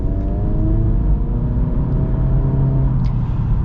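A 2023 Acura Integra with an automatic CVT accelerates, its engine holding a steady, droning rumble and whir that climbs slowly and evenly without distinct shift breaks, continuous and close throughout.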